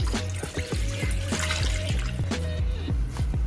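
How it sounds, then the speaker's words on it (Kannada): Water poured into a kadai for boiling Maggi noodles, a brief watery splash and trickle under a steady run of rhythmic knocking clicks close by. "ಈಗ ನೀರು ಹಾಕತ್ತೀನಿ"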